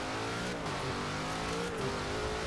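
A low-slung, tuned Ford Raptor in Forza Horizon 4 drives with a steady engine drone and shifting revs, continuous and fairly loud, with no voices.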